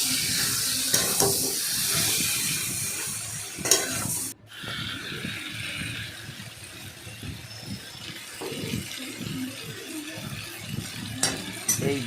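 A spoon scrapes and stirs squash curry in a sizzling pan after ground garam masala goes in, with irregular scraping strokes over a soft fry hiss, a brief clatter midway and faint talk in the background.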